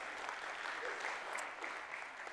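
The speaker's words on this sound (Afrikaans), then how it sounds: "Julle kan 'n groot hande klap." Audience applause, a steady wash of many hands clapping throughout, dense and even with no gaps, heard from within the crowd.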